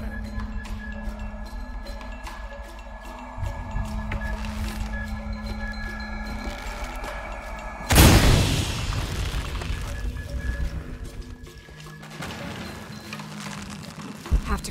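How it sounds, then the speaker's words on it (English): An explosion goes off in the video game Shadow of the Tomb Raider: a sudden loud boom midway, then rumbling and crackling debris that fades back into the low game ambience. "An explosion."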